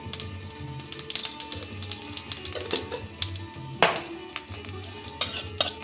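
Dried red chilli, a bay leaf and white cumin sizzle in very hot oil as a tempering, a crackling fry broken by the clink and scrape of a spoon stirring against the pan, with no talking.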